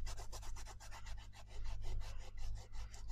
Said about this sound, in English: I'm just rubbing off my squidgage